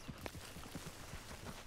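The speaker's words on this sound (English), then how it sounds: "There's a horse." Horse hooves clip-clop at a steady trot in the open-world Western game Red Dead Redemption 2, faint and distant under a low background bed, with no talking.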